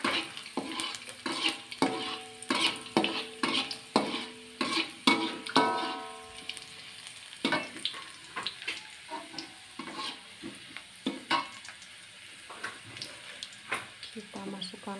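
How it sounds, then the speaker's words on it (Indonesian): Seasoning sautéed in a pan, with soft sizzling and repeated stirring scrapes and clinks of a utensil against the pan, moderately close and steady. "Tumis sampai harum."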